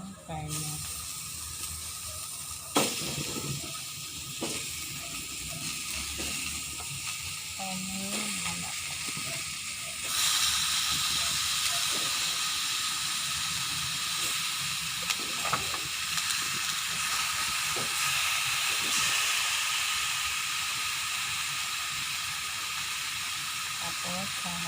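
Chicken meat sautéing in a small amount of cooking oil for pineapple chicken in coconut milk. A steady frying hiss runs throughout and grows louder about midway, with occasional clinks from stirring.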